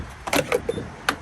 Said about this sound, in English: Go ahead and open up the gas cap. It's automated, which is pretty cool.